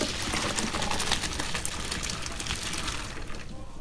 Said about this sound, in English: now I've got my strainer in the sink, and I'm going to drain my potatoes really well.